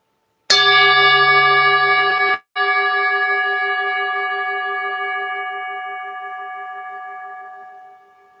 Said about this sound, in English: we'll allow our awareness to ride the sound of the bell